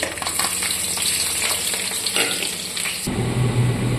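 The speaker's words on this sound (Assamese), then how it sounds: "কেৰাহী গৰম হৈ গ'ল, ইয়াত তেজপাত দুটা দি দিছোঁ, কাটি ৰখা পিঁয়াজখিনিও দি দিওঁ ইয়াত" Chopped onions and two bay leaves dropped into hot oil in a kadai, a steady close sizzle and crackle throughout, with a louder, rougher hiss near the end.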